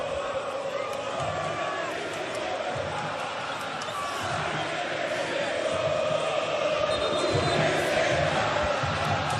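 A stadium crowd of Palmeiras supporters keeps up a continuous roar of chanting and cheering at a Club World Cup match against Porto, with rhythmic low swells and a slight rise in volume near the end.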